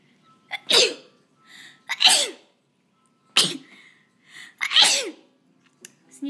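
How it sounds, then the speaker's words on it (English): Several loud, close sneezes in a row, each a sharp explosive burst, with short pauses between them. "I'm going to sneeze."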